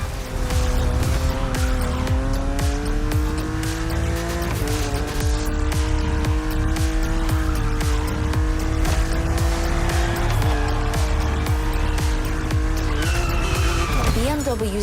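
A BMW Z roadster races an aggressive opponent in the video game The Crew Motorfest, its engine droning steadily with shifting revs and tire squeal over continuous background game music.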